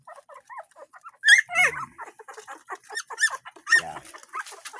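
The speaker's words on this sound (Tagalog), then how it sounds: "Yan po ating mga alagang mga aso." Pet puppies yelping and whimpering in quick, high squeaky bursts close by, with occasional deeper barks mixed in.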